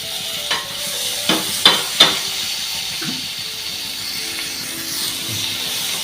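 Masala for a Kerala-style chicken curry with coconut milk frying in a pan with tomato and spice powder, a steady soft sizzle broken by several sharp scrapes and clacks of a spoon stirring.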